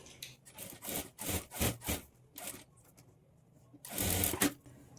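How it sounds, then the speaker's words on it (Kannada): Sewing machine stitching the folded hem of a plain blouse sleeve, several short whirring bursts with quiet pauses between them, close up and without talk. "ಆಮೇಲೆ ನಾವು 1 ಇಂಚಿಗೆ ಈ ಥರ ಫೋಲ್ಡ್ ಮಾಡಿಕೊಂಡು ಸ್ಟಿಚ್ ಮಾಡ್ಕೊಳ್ಬೇಕು"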